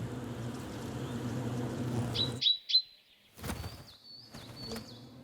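Great tit calling at a nesting hole in an old woodpecker cavity: a few short, high chirps stand out after a dense buzzing hum of bees cuts away, then more thin calls over a quieter background.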